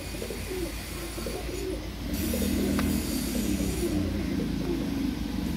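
Pigeons of a fancy breed cooing softly and continuously at a pigeon dealer's, over a steady background rumble, with no voices.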